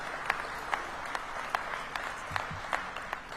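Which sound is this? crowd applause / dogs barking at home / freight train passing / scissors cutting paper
crowd applause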